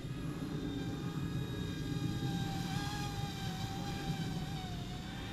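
Eachine E120 RC helicopter lifting off, its small rotor and motor giving a steady whirring drone with a thin high whine that rises in pitch, close by and unbroken, no talking.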